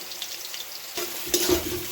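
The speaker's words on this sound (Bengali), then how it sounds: "এখন আমি সয়াবিনটা ভেজে নেব" Small soybean chunks fry together in a batch of hot oil, a soft steady crackle that swells into a louder, busier sizzle partway through, with the light scrape of stirring and no talking.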